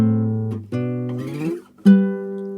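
Acoustic guitar playing part of a song, a few plucked notes and shifting two-note shapes with audible finger slides between them, close and fairly loud, with no talking.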